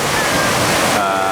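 Mediterranean Sea waves wash onto a beach in Loreto, Italy, a loud, continuous rush of surf close by with wind buffeting the microphone.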